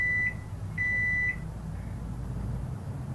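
Microwave oven in a horror video game, sounding a few clear electronic beeps, one short and one longer tone, over a low steady hum of the running oven.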